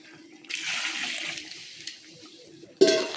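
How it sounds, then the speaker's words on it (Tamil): Half a litre of water is poured into a pot of mutton biryani masala, a hissing splash for about a second, then quieter trickling, and a sudden second splash near the end. "நம்ம இனி மசாலா அலசி நம்ம ஒரு 1/2 லிட்டர் தண்ணி ஊற்றிக்கலாம்."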